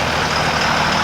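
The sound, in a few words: 2002 Ram Cummins 24 valve truck engine running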